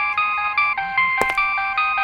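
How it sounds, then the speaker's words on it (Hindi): A senior police officer's mobile phone rings with a repeating electronic ringtone, several short bright chiming phrases in a steady rhythm, loud and close, alone without talk. "आपका फोन नहीं बज रहा है, हमारी मैडम का फोन बज रहा है।"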